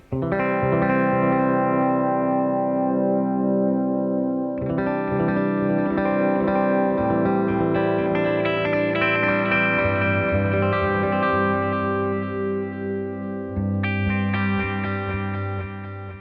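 Electric guitar through the delay block of a Fractal FX8 with modulation set to zero, playing sustained distorted chords with clean, unmodulated repeats trailing each phrase, loud and steady, with no voices.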